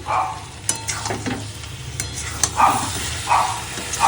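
Mutton pieces, already mostly cooked, hit a hot pan and sizzle, with soft frying hiss and a few stirring clatters and pops spread over a few seconds, close and moderately loud, no voices.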